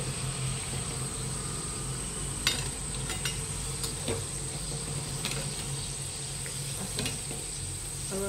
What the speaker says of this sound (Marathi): हळूहळू तेल टाकून घ्यायचं, म्हणजे कसं आहे ना वरची साईड छान तळली जाते